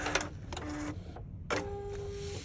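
Sewing machine stitching a foldable carry-all duffle bag, heard as short bursts of close mechanical whirring separated by brief pauses, with no talk.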